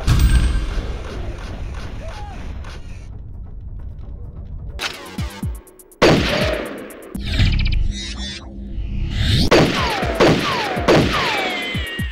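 Shotguns firing in first-person shooter video games: loud, punchy blasts in separate bursts, some in quick runs, with mechanical reload clicks and ringing tails between the shots.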